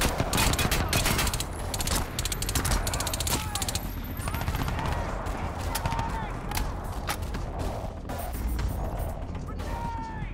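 Crysis 2 gunfire rattles in dense, rapid bursts with grenade blasts mixed in, loud and continuous throughout, and a player talks over the combat.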